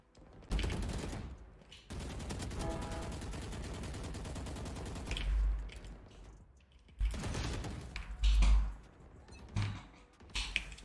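Rapid gunfire from a shooting game with a newly bought Sheriff weapon comes in loud, clattering bursts separated by short pauses, with low thumps between some volleys.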